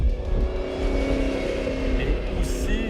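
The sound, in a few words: supercharged car engine and exhaust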